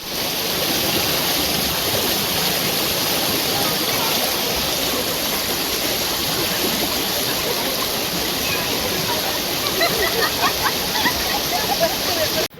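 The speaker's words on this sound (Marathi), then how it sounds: "आता पाणी उडव." Water rushes and splashes at a stream during a family day out, a loud, steady, close wash that fills the whole stretch, with voices faintly heard near the end.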